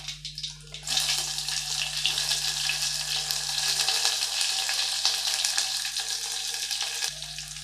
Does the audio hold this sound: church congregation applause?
no